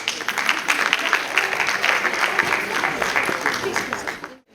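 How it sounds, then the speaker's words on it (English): A hall audience applauds steadily to welcome performers onto the stage at a women's entrepreneurship day event, dense clapping that fades out at the end. "Please welcome her on the stage up with a big round of applause"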